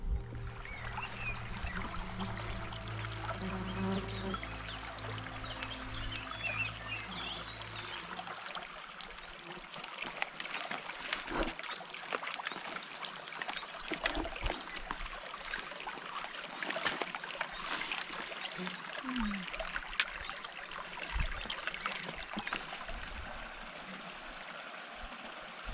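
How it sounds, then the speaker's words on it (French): Steady, close rush of a small mountain stream flowing at the foot of a steep final descent near the Bendola, a continuous broadband wash with faint bubbling and no voices. "En bas, on entend l'eau couler."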